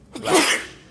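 A single close, loud human sneeze, a quick intake and sharp burst lasting about half a second, heard alone in a quiet room of an art museum.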